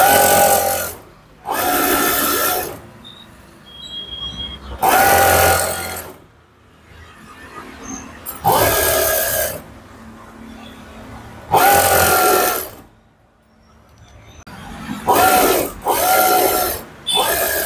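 A sewing machine stitches a puff sleeve in loud, fast mechanical bursts, about eight runs of a few seconds each, separated by brief quiet pauses.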